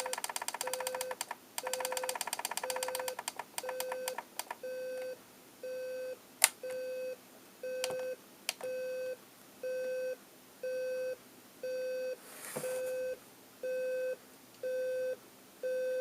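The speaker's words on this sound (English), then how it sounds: "Okay, well there's your alarm there." A General Electric 7-4809A nature sounds clock radio sounds its alarm: rapid clusters of electronic beeps first, then a steady pattern of evenly spaced beep bursts, close by, with a few clicks in between.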